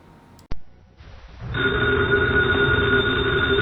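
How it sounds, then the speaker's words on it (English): A telephone bell rings in an old time radio drama, a Nero Wolfe mystery: a sharp click, then a loud, sustained bright ringing that builds and holds steady, with no talk. "the ringing of that phone bell means mystery, adventure"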